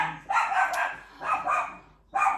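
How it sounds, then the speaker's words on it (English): Dogs bark in three separate bursts of several rapid barks each, moderately close and loud, with short quiet gaps between them. "Excuse the dogs, they're gonna bark."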